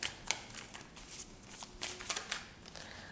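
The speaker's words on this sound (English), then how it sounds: "let's shuffle these astrology cards" A deck of astrology cards is shuffled by hand at close range, giving quiet, papery riffles and flicks in a string of short, uneven bursts.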